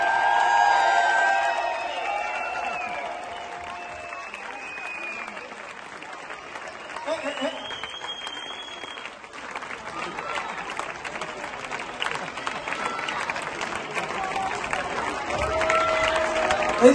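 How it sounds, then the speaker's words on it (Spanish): A family audience at a school parents' association concert claps loudly and steadily for about seventeen seconds, the dense applause swelling near the end with scattered voices and a whoop mixed in. "¡El aplauso más alto, dicho!"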